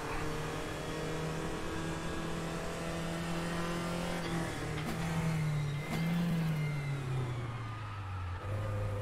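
Race car engine in the RaceRoom racing game holds a steady, loud drone that swells and rises in pitch as it accelerates, with a brief lift and shift partway through, continuous and close with no voices.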